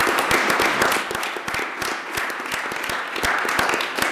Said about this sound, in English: I want to have a round of applause for her.